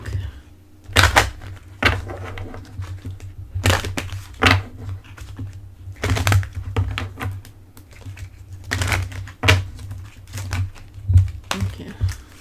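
A deck of oracle cards is shuffled in repeated quick riffling bursts, close and crisp, separated by short pauses, with a little faint talk in the background.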